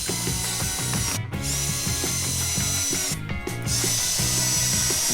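A power drill drives pocket screws into wooden table sides, with a loud, continuous ratcheting and whirring drive that pauses briefly twice, heard close and alone.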